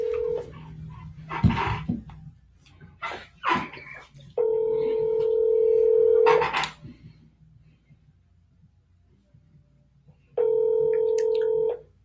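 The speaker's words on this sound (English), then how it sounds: "All right, so we're going to call him now." A phone call being placed: a steady tone, bursts of button presses, and long repeating ringback tones with gaps between them, loud and close, mixed with some brief background noise.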